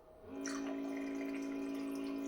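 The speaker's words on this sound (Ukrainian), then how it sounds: "І дивіться, наливає точнісінько стільки, як нам треба." A vodka dispenser pours a thin, steady stream into a shot glass, a close, continuous trickle with a faint hum running underneath, alone without talk.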